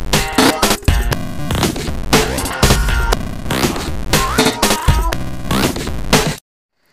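An Audio Damage Automaton glitch plugin chops a loud track into stuttering, jumpy fragments, with repeated cuts, throbbing bursts and scratchy static, before stopping abruptly into silence.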